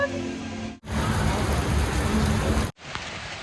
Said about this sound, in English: It is pouring rain. I've never seen it pour this hard ever.